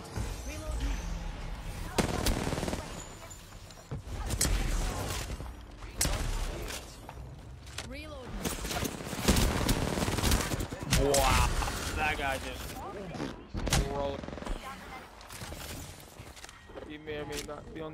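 Gunfire in the Apex Legends video game, with sharp repeated bursts and scattered single shots mixed with footsteps and game effects, while players talk over the action.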